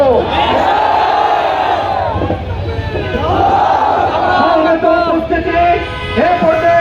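A large crowd chants slogans in unison at a Bangladeshi street protest rally against Israel's killing of Palestinian Muslims and for a boycott of Israeli goods. Loud, rhythmic call-and-response waves of voices rise and fall, filling the space.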